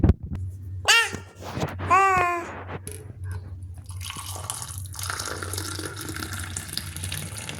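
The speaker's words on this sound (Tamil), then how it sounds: "காஃபி கொட்டிருச்சு" Coffee spills and splashes in a home, with a couple of short liquid gurgles and drips early on, then a steady soft trickling hiss that carries on to the end.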